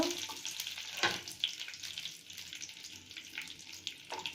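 A tempering of curry leaves crackles in a pan for curd rice. A continuous light, fizzy sizzle carries a few sharp clinks and scrapes, heard up close with no voices.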